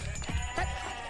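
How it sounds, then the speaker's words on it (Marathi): Goats bleat close by in a village, two short wavering calls in quick succession within a second. "शेळ्या खूप आहेत."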